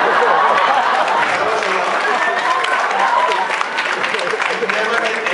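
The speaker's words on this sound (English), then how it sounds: "I've never had anyone applaud for a bar mitzvah before" An audience applauding during a question-and-answer session with Joel Stein, a loud, even roar of many hands clapping that carries on steadily for about five seconds.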